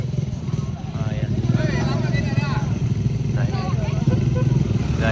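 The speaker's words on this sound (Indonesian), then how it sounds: "ini ada Vespa juga yang lewat" A Vespa scooter's engine drones steadily past on a landslide-damaged road at Bukik Gandum on the Pessel–Solok route, heard beneath continuous conversation.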